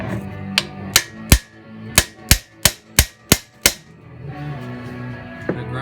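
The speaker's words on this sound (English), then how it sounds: "You want to tap this in with the hammer as far in as it will go" A hammer taps a metal pin into a GM Chevelle door hinge during a roller detent bushing rebuild: nine sharp, ringing metallic strikes in a quick, uneven series, then quiet workshop ambience.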